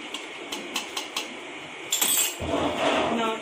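A drink with soda water being stirred in a glass, a run of light clinks as the spoon taps the sides at a steady rhythm, followed by a brief fizzy hiss near the end, close and fairly loud.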